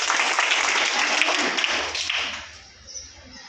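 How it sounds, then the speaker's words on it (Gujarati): A short round of clapping from a class of schoolchildren at a quiz competition, lively for about two seconds and then trailing off into a few scattered claps. "ઓકે સરસ, તાળી પાડો"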